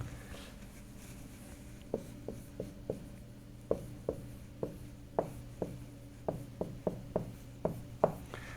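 Marker or chalk strokes tap and scrape on a lecture board in a steady run of about a dozen short, crisp hits, close and fairly quiet over a low room hum.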